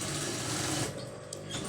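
A sewing machine stitches a boat-neck blouse, its needle running in a fast, steady, close mechanical whirr before it slows and stops.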